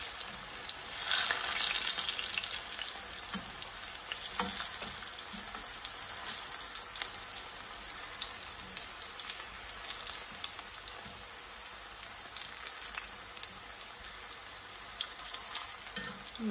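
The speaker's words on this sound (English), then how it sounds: "So you just want to allow it to fry on that side for a further 2 minutes maybe." Jerk chicken fries in a pot after being flipped, a faint, steady crackling sizzle running for the whole stretch, close by and without talk.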